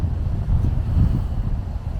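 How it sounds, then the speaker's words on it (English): Breezy morning wind buffets a handheld microphone along a roadside walk, a continuous low rumbling roar that swells and eases without pause. "It's breezy."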